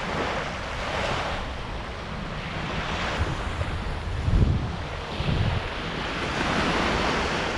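Ocean surf rolls onto a beach in steady washes, with wind buffeting the microphone throughout and a couple of heavier wave crashes near the middle; no voices.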